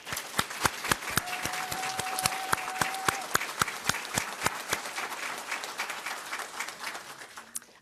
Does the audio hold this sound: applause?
yes